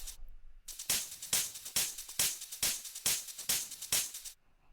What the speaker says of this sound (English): This is the top loop 10